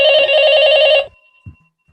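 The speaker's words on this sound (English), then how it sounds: "The phone rings again." A telephone bell rings loudly, one long trilling burst of about a second. It stops abruptly, and a faint click follows soon after.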